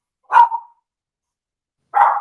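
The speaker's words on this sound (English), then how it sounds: "and then dogs go berserk" Two short bursts of dog barking, sharp and moderately near, separated by a long silent gap, from a scene in which dogs go berserk in the film Godzilla vs. MechaGodzilla II.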